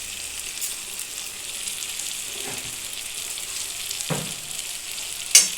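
Potol chingri curry of pointed gourd, potato and prawns simmers in a pan with a steady, moderate frying sizzle. A few soft stirring knocks sound along the way and a sharper clink comes near the end, with no talking.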